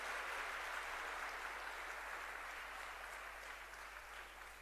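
Crowd applause at a party rally welcoming guests, a steady broad wash of clapping that holds for the whole stretch and eases slightly toward the end, with no voices over it.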